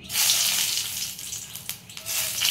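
Kasuri methi (dried fenugreek leaves) dropped into hot oil in a pan, giving a steady, close hissing sizzle that swells and dips briefly before rising again, with no talk.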